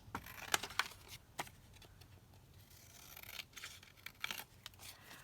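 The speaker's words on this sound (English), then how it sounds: "is just cut a couple of journal cards or tags" Scissors cut journal cards and tags out of paper, with a quiet run of sharp snips and crisp paper rustles, closer and clearer at the start and again near the end.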